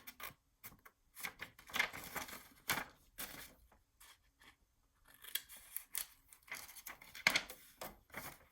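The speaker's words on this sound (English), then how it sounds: "I'm just going to cut it, cut this piece out." Scissors snip through paper while a piece is cut out for a flat flipbook passport journal album, a series of quiet, close crisp cuts in irregular bursts with pauses between.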